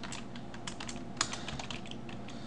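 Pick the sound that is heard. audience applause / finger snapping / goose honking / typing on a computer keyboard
typing on a computer keyboard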